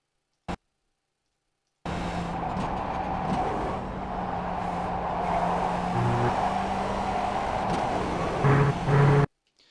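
In the iRacing sim at Brands Hatch GP, a race car engine climbs through the revs as it accelerates downhill out of Paddock Hill Bend. The loud, continuous whine rises and shifts pitch through gear changes, with no voices over it.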